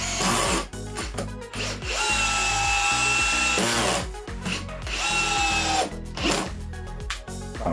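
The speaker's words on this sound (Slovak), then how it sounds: "Chcem odskúšať ešte eh, skrutkovanie do mekého dreva." A Villager VPL 8120 cordless hammer drill with 80 Nm of torque, set to its second speed, drives a 6x200 screw into soft wood. Its loud motor whine rises and falls in repeated bursts over rhythmic low thumping, with brief pauses between runs.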